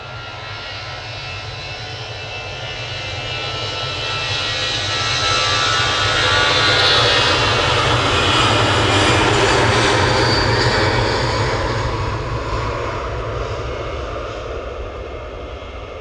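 An EasyJet jet airliner taking off at Manchester Airport builds into a loud, swelling engine roar that peaks in the middle and slowly fades, heard alone without speech.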